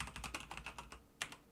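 Quick, light keystrokes clatter on a computer keyboard, a close run of about eight taps, a short pause, then two more.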